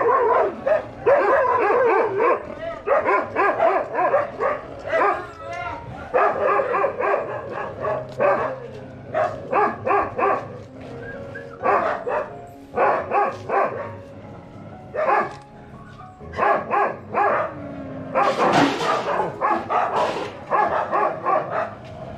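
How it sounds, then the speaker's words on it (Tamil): Nine-month-old Rajapalayam dog barking in repeated short bursts, loud and close, with irregular pauses and a few higher yips and whimpers between the barks. "சரி 9 மாதம் ஆகுது நாய்."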